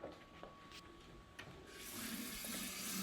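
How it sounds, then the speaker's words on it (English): Warm water runs from a kitchen tap, starting as a thin trickle with a few clunks and then swelling into a steadier, fuller gush near the microphone, with no voices. "I'm going to get some warm water"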